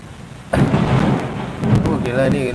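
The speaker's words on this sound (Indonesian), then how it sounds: "Oh gila nih lagi gede-gede hujan anjir." Heavy rain with a loud thunderclap that breaks in suddenly and rumbles on beside dense, close rainfall, swelling again near the end.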